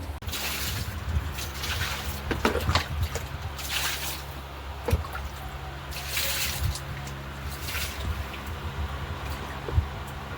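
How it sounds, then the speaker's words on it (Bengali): Water is splashed and poured to wash a yard clean. Soft sloshing and trickling sounds come in uneven bursts, with a low steady hum beneath. "সেটা আবার জল দিয়ে ধুয়ে দিচ্ছে"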